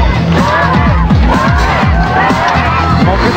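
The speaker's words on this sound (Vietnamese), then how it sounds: "Có nghe khán giả vỗ tay và vỗ động nhanh không?" A studio audience on a Vietnamese TV game show claps and cheers in a loud, dense roar, with a fast rhythmic beat and a host's voice running over it.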